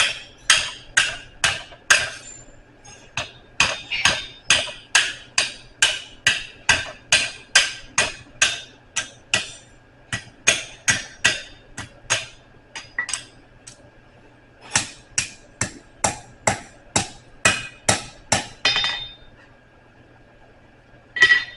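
A blacksmith hammers hot metal on an anvil to flatten its corners, a long run of loud, ringing blows in a steady rhythm, close by, with a few short pauses between bursts.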